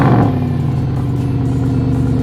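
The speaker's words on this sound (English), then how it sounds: "So now we're gonna unload the SLS and park it first." A Mercedes SLS engine idles and rumbles as the car is unloaded from a transporter and moved to park, with a brief rev at the start settling into a steady, close, low drone.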